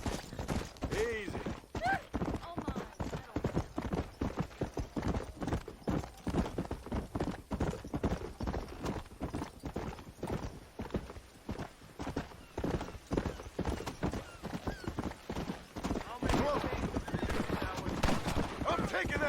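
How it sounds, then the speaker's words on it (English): A horse in a video game gallops with rapid continuous hoofbeats and neighs loudly, the clatter staying close and busy throughout while a voice talks over it. "I'm taking that horse back."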